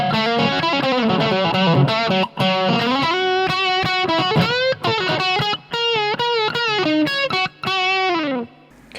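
An electric guitar plays a melodic line through a Blackstar Silverline valve amp with light room reverb, giving a clean-to-slightly-driven 1960s Clapton-style tone, with sustained notes and quick phrases filling the clip and no talk.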